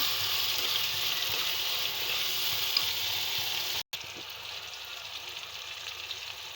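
Tomatoes fry in a pan for fish curry, giving a steady, close hiss of sizzling oil that runs evenly, broken only by a brief cutout partway through.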